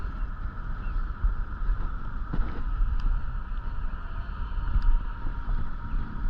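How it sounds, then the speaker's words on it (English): Wind gusts across Lady Bird Lake, a steady low roaring rumble with buffeting on the microphone that holds for several seconds with little else audible. "Got some wind going and I got hit right away. Right when that wind started blowing."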